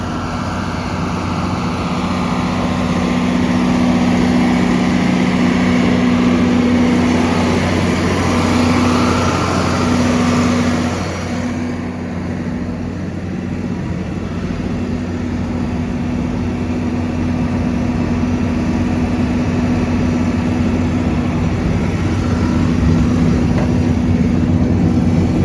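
A tractor running a feed mixer through its PTO on a cattle farm, a steady loud low engine drone with mechanical hum continuing throughout, close and unbroken.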